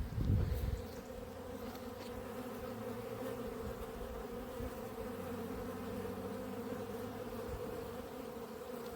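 Honey bees in a frenzy at apiary hives, a dense, steady buzzing drone that fills the whole stretch, close and continuous with no voices over it.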